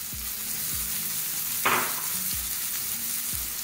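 Grated cabbage, carrot and capsicum frying in a pan, giving a steady sizzle with a few soft, regularly spaced knocks and one brief scraping stir, close and alone.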